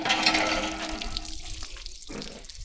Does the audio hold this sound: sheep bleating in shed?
no